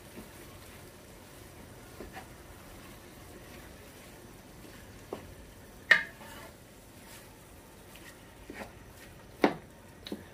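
Beef for Guatemalan chiles rellenos fries quietly in a pan as it is stirred, with a faint sizzle under scattered scraping and tapping of the utensil against the pan.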